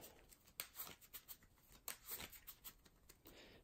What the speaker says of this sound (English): Now we shuffle our deck.